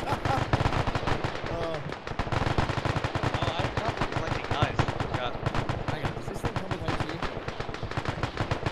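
Rapid, dense bursts of automatic gunfire from a machine gun in the video game Arma 3, set in snowy terrain with German forces, firing continuously and loudly at close range throughout.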